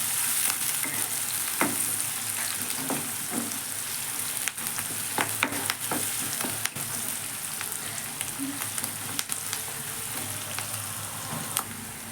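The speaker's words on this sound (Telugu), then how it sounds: "కొంచెము ఉల్లిగడ్డ పచ్చి వాసన అంతా పోయి కొంచెం మామూలుగా బ్రౌన్ కలర్ వచ్చేంత వరకు వేంపుకోవాలి." Onions frying in a pan for a tomato and dried prawn curry give a steady, close sizzle, with occasional sharp clicks from stirring and no talking.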